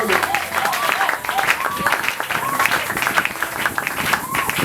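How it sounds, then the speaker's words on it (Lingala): A church congregation at a Sunday worship service applauds loudly, with dense, continuous clapping and crowd noise that holds steady throughout, mixed with voices and bursts of cheering. "Nous allons acclamer très fort"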